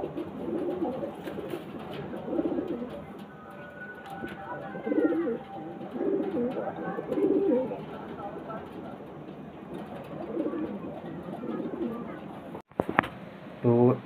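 Old-breed pigeons, a Dobaj and a black Mechia, coo in repeated low rolling phrases close by, with someone talking over them and a brief sharp knock near the end.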